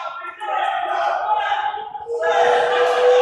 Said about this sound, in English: They're chanting Andy Heder.